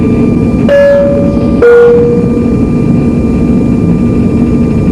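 A loud, steady roar of jet engines from a Red Wings Sukhoi Superjet 100 fills the whole stretch, with two short rising whines partway through, like an airliner taxiing near the runway.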